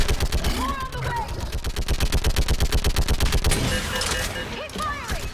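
Sustained rapid gunfire in the video game Mass Effect 3, a fast, steady automatic burst loud and close for most of the stretch, tapering into scattered shots and combat noise near the end, with shouting voices over it.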